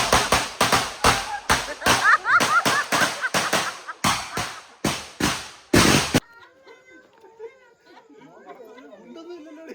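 Firecrackers bursting at night during a small Vishu celebration gathering, a rapid string of sharp, loud bangs for about six seconds that stops abruptly, leaving faint chatter and distant voices.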